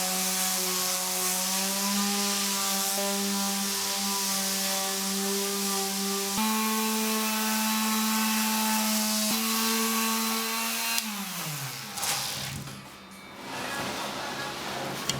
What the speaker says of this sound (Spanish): Para terminar, lo lijo todo para dejarlo suave